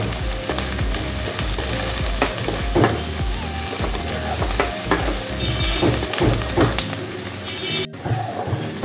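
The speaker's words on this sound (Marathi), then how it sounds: "हे मी असं मिडियम फ्लेमवर अगदी 1 मिनिट परतलेलं आहे" Shredded cabbage and capsicum stir-fried in a pan over a medium flame, with a steady sizzle and rhythmic scraping strokes of a spatula close up, the clatter continuing throughout and briefly dropping out near the end.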